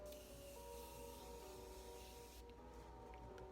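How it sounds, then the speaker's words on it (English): Makeup setting spray on a face: a close, hissing spray sound runs for a couple of seconds, then cuts off to quiet background with faint tones. "Then I'm just going to use the setting spray one more time for good measure."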